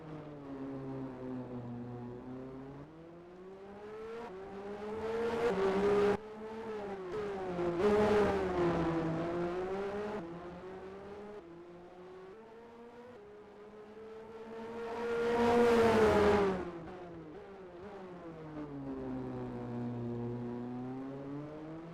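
A Ferrari Formula One race car driven by Emerson Fittipaldi laps another car at Adelaide in a racing video game. A loud, whining engine note swells and fades through several passes, with the strongest surge about two-thirds of the way in.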